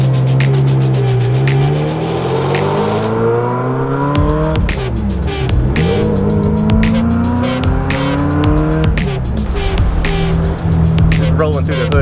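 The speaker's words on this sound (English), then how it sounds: "Just rolling through the hood in a Ferrari," A bagged Ferrari 348ts drives through city streets, its engine loud and close, rising in pitch through each gear with drops at the shifts. Voices sound faintly in the cabin.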